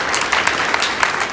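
An audience applauds a middle school teacher of the year, a dense, steady wash of many hands clapping at close range with no talk over it.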